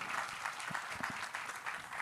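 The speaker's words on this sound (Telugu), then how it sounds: "అందరూ చప్పట్లు కొడదాం" Faint, distant clapping from an audience at a Bible seminar, welcoming a speaker to the stage as a steady wash of applause.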